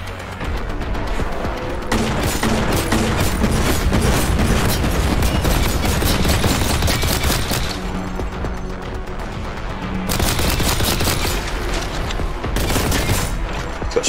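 Dense, continuous gunfire and explosions from the Warhammer 40K Boltgun video game, loud and relentless across the whole stretch with heavy booms layered under rapid shots and no talk.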